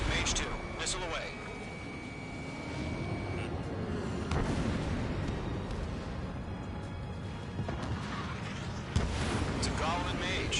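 A missile launches in Ace Combat 7 amid constant jet and combat rumble, with whooshing bursts and booms across the stretch and radio voices talking over the noise.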